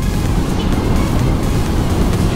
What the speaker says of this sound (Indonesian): sini anginnya ampun gitu, anginnya kencang kali